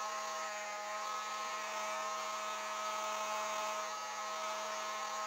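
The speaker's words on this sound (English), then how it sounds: "this is just a traditional heat gun, and I do it on the lowest setting" A traditional heat gun runs steadily on its lowest setting, giving a constant airy whoosh with a fixed electric whine, fairly close and unbroken throughout with no talking.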